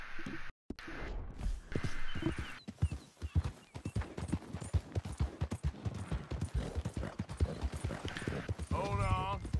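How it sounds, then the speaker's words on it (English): Rhythmic clip-clop of horse hooves in Red Dead Redemption 2 growing closer, with a short whinny near the end and talking over much of it. "another horse coming?"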